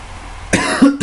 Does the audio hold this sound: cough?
yes